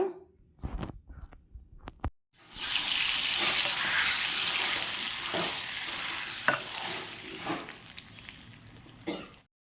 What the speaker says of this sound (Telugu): దీనికి పోపు అయితే వేస్తానమాట